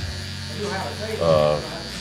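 An electric hair trimmer buzzes close by while edging a line during a pompadour fade haircut, a steady hum that swells briefly near the end, with a voice talking over it.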